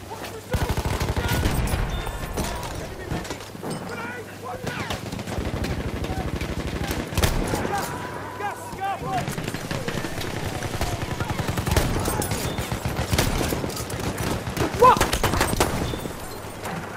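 Gunfire in the video game Battlefield 1, with dense bursts of rapid shots, machine-gun rattles and explosions in a loud, busy game mix, with a voice talking over parts of it.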